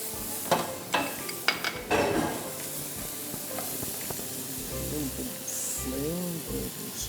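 Ginger and garlic paste sizzles in a hot pan for a vegetarian korma, crackling steadily while a utensil knocks and scrapes against the metal in several sharp strokes, and voices talk over the frying.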